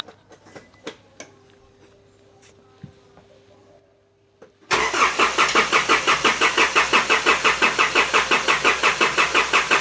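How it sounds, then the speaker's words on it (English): A car engine, just fitted with replacement injectors, is cranked by the starter in rapid rhythmic pulses after a quiet stretch of small clicks, close and loud, without yet catching. "we're just gonna have a shot at trying to crank the engine over and hopefully she gets fuel."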